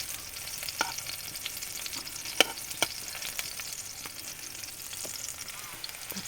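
Chili sizzles in hot cooking oil alongside onion and garlic, a soft continuous frying hiss broken by a few light spoon clicks and stirs, quiet and close, with no voices.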